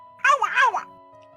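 A person vocalises a short, wavering, pitched call imitating a pygmy bird, two quick warbling bursts lasting under a second, close and clear against a faint steady tone.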